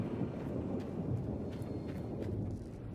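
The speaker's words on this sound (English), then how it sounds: "we got a thunderstorm" A thunderstorm rolls through the video game Gold Mining Simulator, with a continuous low rumble of thunder over a steady wash of rain and wind, fairly loud and unbroken.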